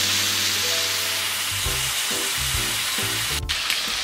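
Steady, loud sizzling of chicken frying in a hot pan, with a few clinks and scrapes partway through.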